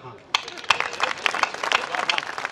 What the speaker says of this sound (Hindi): तो जितनी महिलाएं हैं वो ताली बजा दीजिए।